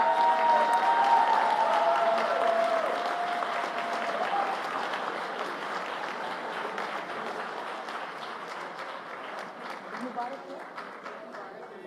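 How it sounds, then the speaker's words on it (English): Audience applause and cheering at the WSDC 2025 World Schools Debating Championships Grand Final, a large hall crowd clapping steadily for the speakers, loudest at the start and gradually thinning over about twelve seconds. "A large round of applause for them."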